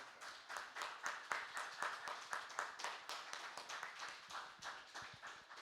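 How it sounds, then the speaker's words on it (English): An audience applauds a group standing up at an event, with dense, steady clapping that runs throughout, moderately distant and with no talking over it. "And now I invite everyone else to applaud you."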